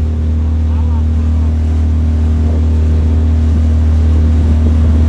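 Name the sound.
motorboat engine arriving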